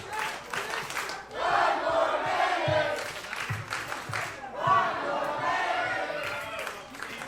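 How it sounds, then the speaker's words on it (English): The crowd at a Monster Factory Pro Wrestling show cheers and chants in two swelling waves, a dense roar of voices with some clapping, loud and sustained. "The Monster Factory faithful cheering for one more minute"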